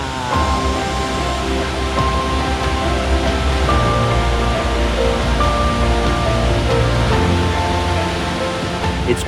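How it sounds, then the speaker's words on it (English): Ithaca Falls, a waterfall 150 feet tall and 175 feet wide in upstate New York, pours as a loud, steady broadband roar that fills the whole stretch without pause. "Ithaca Falls is the largest waterfall within the city"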